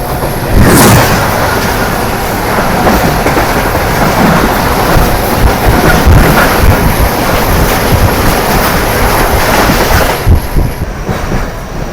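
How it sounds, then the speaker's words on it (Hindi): The 10 Down Allama Iqbal Express bound for Karachi roars past at close range, a loud continuous rush of rolling wheels and rattling carriages that fades slightly near the end. "10 डाउन अल्लामा इकबाल एक्सप्रेस और इसको लीड कर रहा है"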